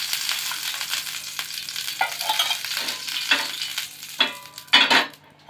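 Oil sizzling in a hot pan, a continuous close hiss with a few clinks and scrapes toward the end before it drops away.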